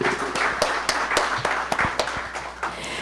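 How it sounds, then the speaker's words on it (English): A modest conference audience claps, with scattered distinct hand claps rising over a steady wash of applause, fairly close. "Let's please give him another round of applause."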